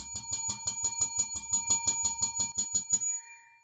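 A bell rings in a rapid steady run of about fifteen bright metallic dings, close and loud, before stopping abruptly with a faint short ring-out, no voices over it.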